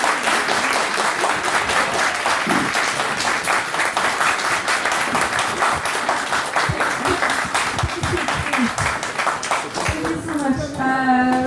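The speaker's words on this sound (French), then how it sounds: "Je vous invite à les applaudir très très fort." Sustained audience applause for authors Charles Soule and Claudia Gray at a Star Wars High Republic event, steady and loud throughout, with a voice starting to speak near the end.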